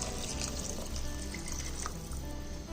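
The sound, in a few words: pouring water into pressure cooker for vegetable biryani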